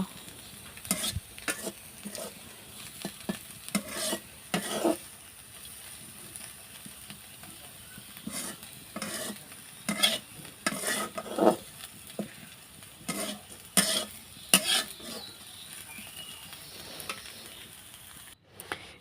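A pan being stirred over gentle frying, with irregular bursts of scraping strokes close up above a soft, low sizzle; no voices.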